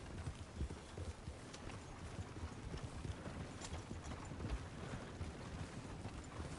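Horse hooves clip-clopping in Red Dead Redemption 2, a steady rhythmic trot of hoofbeats at moderate distance, with faint snorting and no clear whinny standing out.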